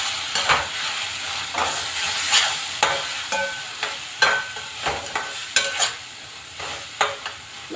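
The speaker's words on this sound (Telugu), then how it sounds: "ఇట్లా బాగా కలుపుకోవాలి" Onions, tomatoes and green chillies are stirred in a pan for vanjaram fish pulusu, a soft sizzle under repeated brisk scraping strokes of a spatula, close and fairly loud, with no voices.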